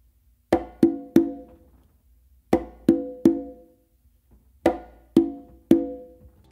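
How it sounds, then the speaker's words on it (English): Three sharp conga strokes, a close slap followed by two open tones, repeat three times with short pauses between groups, close and clear with no talking. "a close slap with your non-dominant hand on the conga, and then two opens with your dominant hand on the conga."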